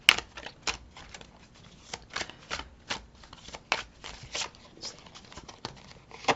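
Tarot cards being shuffled during a full moon reading, a steady run of soft, quick riffling bursts repeating for several seconds, close and fairly quiet with no talking.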